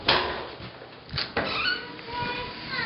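An apartment unit door opens and swings shut as someone heads out toward the building's ski room, giving a couple of sharp knocks and a faint creak, with a person's voice heard around the sounds.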